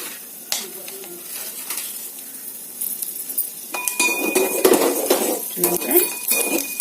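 Cashews and melon seeds fry in a pan for a sweet poha payasam, with a close sizzle and metal spoon clinks and scrapes that grow busier as the stirring picks up.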